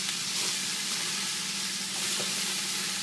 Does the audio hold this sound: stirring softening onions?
yes